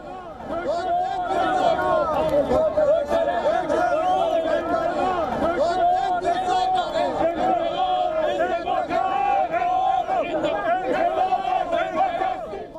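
Dense crowd of protesters in Tehran, a steady roar of many voices chanting and shouting together, loud and continuous throughout with no single voice standing out.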